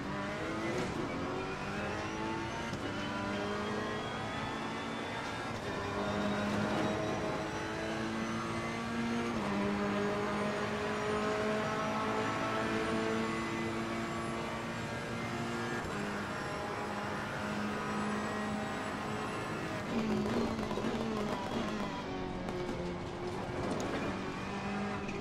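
A Ferrari 488 race car in the Assetto Corsa Competizione video game laps the Barcelona circuit, its engine droning steadily with rising and falling revs through upshifts and downshifts, loud and continuous with no talk.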